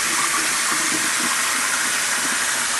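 Water runs steadily from a barbershop sink tap, rinsing a client's hair before shampooing, a constant close rushing splash.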